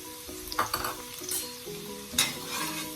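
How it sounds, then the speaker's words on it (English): Shrimp and onions fry in a pan with a continuous sizzle, broken by a few scraping stirs and clinks of a utensil, close and fairly loud. "Now I'm going to start to fry up my shrimp"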